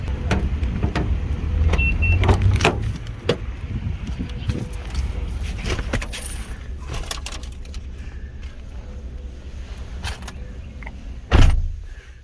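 A car is entered outdoors: rustling movement and knocks, a whirring power window, then a loud door thud near the end, with faint birds in the background.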